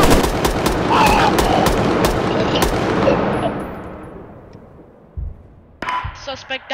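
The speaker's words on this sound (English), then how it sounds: "Shots fired!" Rapid gunfire in a staged police standoff from a short film, a dense burst of loud shots over the first three seconds fading into a reverberant tail, then a few sharp sounds near the end.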